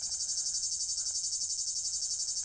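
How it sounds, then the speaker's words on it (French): A plebeian cicada, Lyristes plebejus, sings in a continuous shrill buzzing drone with a fast pulsing texture, steady and unbroken throughout, fairly close and alone with no voices. "C'est la cigale lyre, tout simplement, la D'accord. Lyristes plebejus. C'est la cigale plébéienne"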